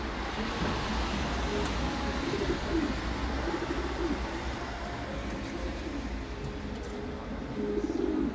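Pigeons on a balcony give low, repeated throaty coos over a constant background hum, fairly close and moderately quiet.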